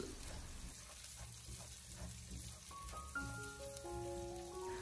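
Minced meat is stir-fried over low heat in a wok with a spatula, giving a faint, steady, rain-like sizzle with light crackles and soft tonal notes in the background.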